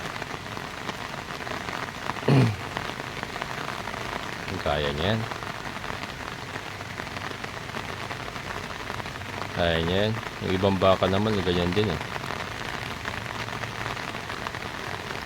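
Heavy monsoon rain pours steadily onto surfaces near a flooded fishpond, a constant loud hiss throughout, while someone speaks briefly over it a few times.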